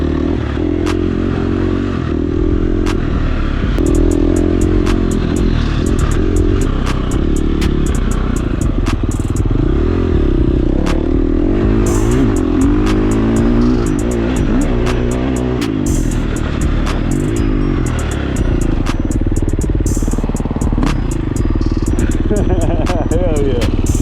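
KTM 350 dirt bike ridden along a trail, its engine droning and revving up close amid wind rumble, clattering and scraping, with people talking over it.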